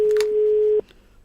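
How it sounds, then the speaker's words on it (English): A single steady telephone ring tone carried through a phone call, sounding close and loud for nearly a second before stopping abruptly, followed by faint line noise. "Let's hear the ring."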